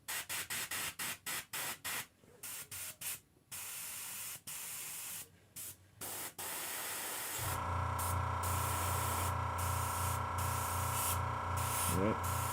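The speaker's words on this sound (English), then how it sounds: "Run into some problems with my airbrush already." An airbrush spraying paint gives short hissing bursts at first, then a longer spurt. A constant steady hiss takes over partway through and runs on to the end.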